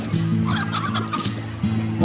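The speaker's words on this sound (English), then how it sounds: "There's a rooster up there." A rooster in the Slime Rancher video game gives loud, close, drawn-out crowing calls with a clucking, turkey-like edge, heard alone without talk.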